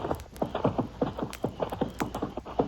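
Horse hooves clip-clopping as a sound effect in an old-time Texas Rangers radio drama, a steady run of irregular hollow knocks close to the microphone with no talk over them.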